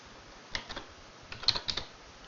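Keys clacking on a computer keyboard in a text editor during a gaming session: a few sparse, crisp keystrokes, then a quick cluster of taps close to the mic, with no talking.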